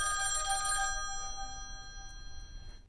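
A telephone rings with a bright, repeated electronic bell tone, loud at first and then fading, heard alone without talk.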